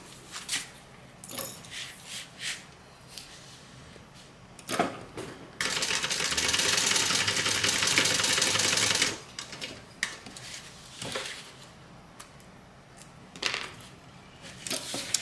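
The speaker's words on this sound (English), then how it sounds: "So we're just going to sew these together." A sewing machine stitching fabric straps together, a fast mechanical rattling run of about three seconds set between scattered sharp clicks and taps of handling, fairly close and not loud.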